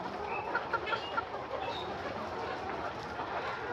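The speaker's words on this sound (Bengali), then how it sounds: "মুরগিতে কিভাবে পানি খাচ্ছে একা একা আপনারা দেখতে পাচ্ছেন।" Chickens cluck softly at a water supply set up for them, scattered short calls over a steady background hum with no talking.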